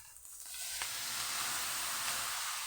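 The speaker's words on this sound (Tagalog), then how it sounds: "lagyan natin tuyo." Dried fish (tuyo) sizzling in a hot pan for pancit, a steady bright frying hiss that swells after a soft start and continues evenly with no talk.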